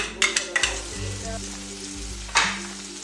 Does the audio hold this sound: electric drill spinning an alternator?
no